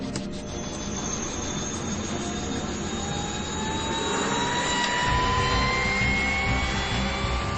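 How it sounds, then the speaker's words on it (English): Army combat helicopter in flight, a steady rushing engine roar that swells louder toward the end as it passes close, with no voices. "The sound of an army helicopter can mean various things to various people, depending on which side one belongs to."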